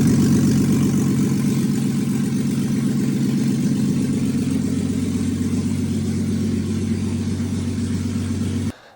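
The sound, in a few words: Jeep TJ engine running and idling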